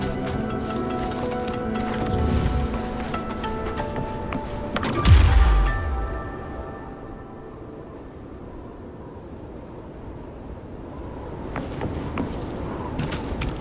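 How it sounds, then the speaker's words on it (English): In the video game Wuthering Waves, an explosive charge of tacitite fulminate blasts a cliff. One sharp boom bursts out over game ambience and a deep rumble fades after it, and the wind-like background then swells again. "Perhaps we can create an opening in this disk with an explosion."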